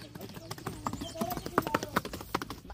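A desi Pakistani horse's hooves clip-clop on hard ground in a quick, uneven series of sharp knocks, fairly close but quiet, with voices talking in the background.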